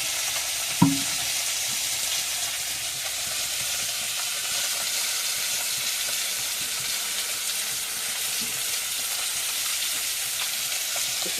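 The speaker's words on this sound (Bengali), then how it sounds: "এপাশে কড়াইতে ডাঁটা শাকটা বসিয়ে দেবো।" Garden-picked amaranth stems and greens fry in oil in a wok, producing a steady, loud, close sizzle and hiss that barely varies, with a single metal clank near the start and no talking.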